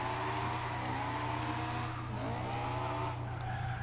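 A Honda S2000 drift build in Forza Horizon 2 revs hard in second gear, its engine pitch sweeping up and down with a squealing tire edge, loud and close, with no talk.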